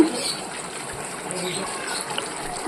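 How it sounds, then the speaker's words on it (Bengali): Rose water poured into a pot of layered mutton biryani, giving a soft, steady trickle of liquid over a faint background hiss. "আর দিয়ে দিলাম এই যে গোলাপ জল আর দিচ্ছি কেওড়া জল"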